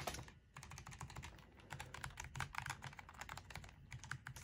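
Quick, uneven bursts of typing on a Logitech G915 TKL keyboard with tactile switches, crisp close-up key clicks and taps rattling in a fast, irregular rhythm.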